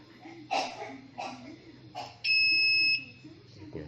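Continuity buzzer of a multitester sounding while testing whether an AC cable is connected, one steady high-pitched beep lasting under a second, preceded by brief bursts of speech.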